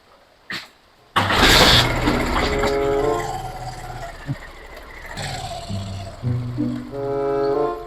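A motorcycle engine sputters, revs unevenly and stalls in a Sundanese comedy street scene, with a sharp knock before it catches and a rough droning run that cuts out and restarts several times.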